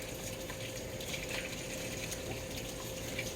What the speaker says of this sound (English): I had to wash my hands